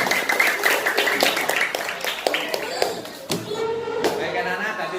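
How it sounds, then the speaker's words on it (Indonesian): Elementary school pupils clapping in a classroom after a quiz, a loose flurry of claps mixed with children's chatter and voices, continuing for several seconds before fading into talk. "Tepuk tangan."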